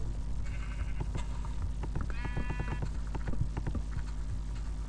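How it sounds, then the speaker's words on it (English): Sheep in the Minecraft video game bleating with a clip-clop of footsteps, several short baa calls over a steady background hum and repeated hoof taps, close and moderately loud. "Ah, sheep, no, don't go in my house."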